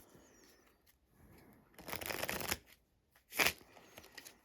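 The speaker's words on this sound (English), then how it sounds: "and you'll shuffle them up." Umami board game cards are shuffled in two short bursts, close and fairly quiet, in a calm room with no talking.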